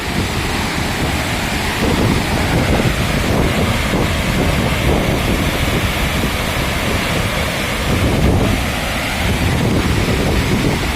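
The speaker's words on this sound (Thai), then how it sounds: "โอ้ลมเย็น" Strong, steady wind roaring near a waterfall in Attapeu, Laos, loud and continuous with gusts buffeting the microphone and the rush of falling water beneath.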